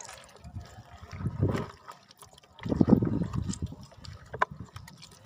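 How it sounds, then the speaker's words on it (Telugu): Water is poured into an aloe vera mixture in a garden setting, giving soft splashing and gurgling swells that rise twice, close by and moderately loud. "ఇప్పుడు ఇందులోకి ఈ నీళ్ళు పోసేస్తున్నాను"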